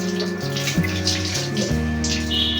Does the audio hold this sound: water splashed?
yes